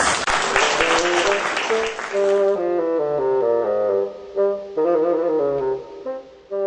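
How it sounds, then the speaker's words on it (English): An audience at a BIMP-EAGA TVET conference gives the presenters a round of applause, a dense burst of clapping for about two seconds that cuts off into steady tonal music. "can we just offer a round of applause to all our presenters?"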